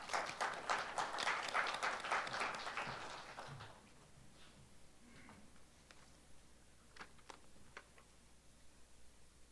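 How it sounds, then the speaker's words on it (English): Applause at an opening ceremony of a world journalists' congress greets a minister, a short burst of clapping in the first few seconds that quickly thins to scattered faint claps. "Please welcome the speaker with a big round of applause."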